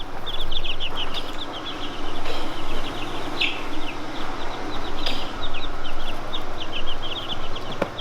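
Dark-feathered roosters and chickens in a homestead coop, with steady chirping and clucking calls repeating throughout over a constant low background hum, no talking.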